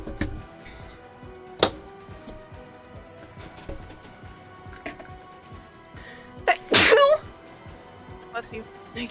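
A single sharp sneeze bursts out near the end, sitting over steady background noise and scattered clicks, with people talking around it.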